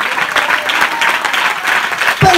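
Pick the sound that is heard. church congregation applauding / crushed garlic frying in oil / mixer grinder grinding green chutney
church congregation applauding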